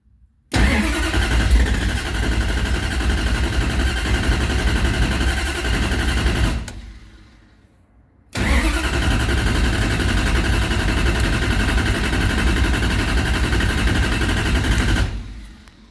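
A 377 W2 Mopar stroker engine starting for the first time: it catches and runs loud and rough, cuts out into a brief silence, then restarts and rumbles steadily before shutting off, close, no talking.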